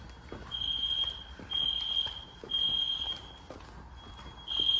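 Fire alarm horns sound in sync during a system test, a loud repeating horn blast about once per second with a steady pulsing rhythm in an indoor space.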